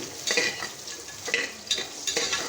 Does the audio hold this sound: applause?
no